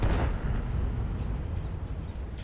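A tank gun fires in a tank video game, one loud boom at the very start followed by a sustained low rumbling roar of engine and battlefield noise, with no talk over it.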